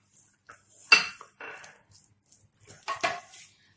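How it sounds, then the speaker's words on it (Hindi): A spoon stirring grated, peeled cucumber into yogurt in a bowl for raita, a few scattered clinks and scrapes of metal on the dish, close and intermittent with quiet gaps. "हम इसमें डाल देंगे ककुम्बर को और दही के साथ हम अच्छे से मिक्स कर लेंगे"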